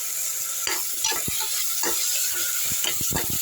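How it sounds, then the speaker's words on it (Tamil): Onions sautéing in a pan as ginger garlic paste goes in, a steady bright sizzle broken by repeated scraping stirs and clinks of a spoon against the pot, close and alone without talk. "இங்கே வெங்காயம் வதங்கிருச்சிங்களா அடுத்து இஞ்சி பூண்டு பேஸ்ட் போட்டுடலாம்"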